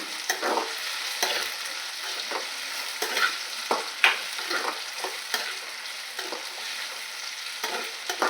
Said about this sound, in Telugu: తర్వాత మంచిగా కలబెట్టేసేయాలి.